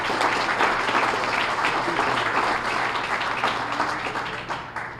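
Sustained applause fills a room at a small business awards breakfast, a dense, even wash of many hands clapping that stays loud throughout and fades only slightly near the close, with no speech heard over it.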